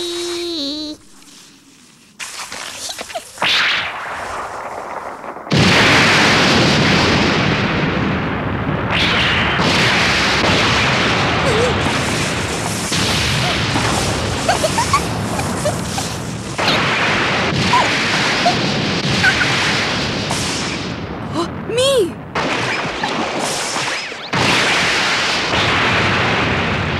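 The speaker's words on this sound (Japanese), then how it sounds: "とうとう春の大砲が鳴ったわね。" Heavy booming blasts like cannon fire roll on continuously, loud and dense, with crashing reverberation filling the whole stretch after a brief quieter opening.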